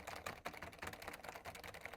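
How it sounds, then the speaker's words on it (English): Cherry M80 keyboard fitted with silent MX Red switches being typed on, a steady run of soft, muffled keystrokes close up with no talking. "you can hear that it still makes noise, but it's much more muffled because they've built in some sound dampening hardware into the switch itself"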